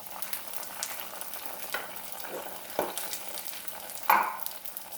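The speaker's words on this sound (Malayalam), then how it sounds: "നന്നായിട്ട് അരച്ച ഇതുണ്ടല്ലോ, അരപ്പ് അതിലേക്ക് ഇട്ട് കൊടുക്കാം." Ground coconut paste tipped into a simmering prawn and raw mango curry, followed by stirring: a steady low sizzle and bubbling with a few scraping knocks of the spoon, louder near the end, no talking.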